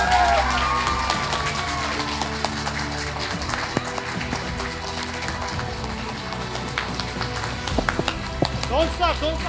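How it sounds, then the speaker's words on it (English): Loud audience applause for mentors at a teachers' debate show, a dense sustained clatter of clapping with music and voices running underneath throughout. "it's time to give loud, clear, and unstoppable applause"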